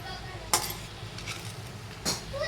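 A metal spoon stirs fenugreek greens and soaked moong dal in an oiled pan, giving two sharp clinks against the pan over a soft background hiss.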